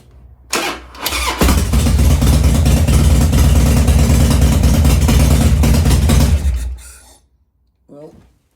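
An engine is cranked and fires up right after a new air filter and breather tubes are fitted, then runs loud and steady with a couple of revs for several seconds before shutting off, followed by a brief voice.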